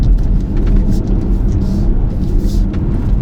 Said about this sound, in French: ce 5 cylindres, il répond hyper bien